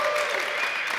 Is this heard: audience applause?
yes